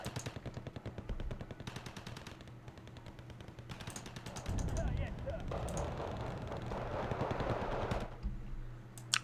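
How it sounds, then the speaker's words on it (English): Royal Marines infantry firing on all sides in the real-time strategy game Wargame: Red Dragon, a steady rattle of rapid gunfire that swells and thickens midway, mixed with rumbling battle noise throughout. "all the Royal Marines are firing on all sides"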